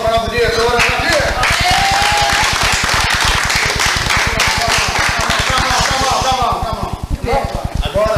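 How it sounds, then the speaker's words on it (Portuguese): Steady, loud applause from a theatre troupe's gathering honouring their director, dense rhythmic clapping filling the room for several seconds, with voices and whoops mixed in before it thins out near the end. "Então, uma salva de palmas para a nossa diretora."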